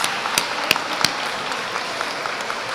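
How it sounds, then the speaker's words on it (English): Audience applause at a school promotion ceremony, a steady wash of many hands clapping with a few sharper claps standing out, moderately close and continuous throughout. "Give your parents a big round of applause."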